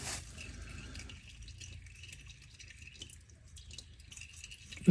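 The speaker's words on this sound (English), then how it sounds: "still draining down. So we'll just let it drain down for a bit." Engine oil drains steadily from a Vauxhall Mokka 1.6 CDTi during a DIY service, a faint continuous trickle and drip into a container, with a sharp clunk at the very end.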